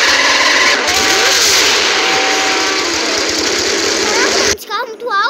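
A car engine in a Roblox game drones and revs loudly with a harsh, buzzy tone, cutting off abruptly near the end, while people talk over it.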